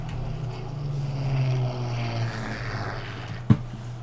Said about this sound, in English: There go the airplanes.